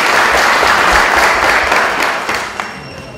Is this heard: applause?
yes